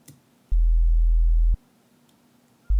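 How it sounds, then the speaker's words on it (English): A deep sine tone from a default sampler patch in Logic Pro plays as two sustained low notes, the first lasting about a second, the second starting near the end, with soft clicks at each onset. "So if you want a basic sine wave, it's your default sampler is just it"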